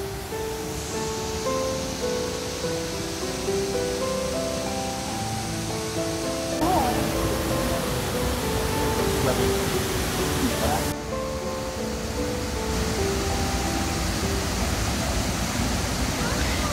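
Tahquamenon Falls in Upper Michigan pours its tannin-stained, root-beer-brown river water over the drop in summer, making a steady broadband roar that stays continuous and fairly loud, with faint music playing over it.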